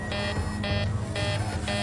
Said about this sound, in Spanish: Ahora se ha encendido la alarma general